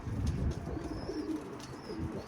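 Crested pigeons coo softly inside a coop, low murmuring calls rising and falling over a couple of seconds, with a few faint higher chirps near the end.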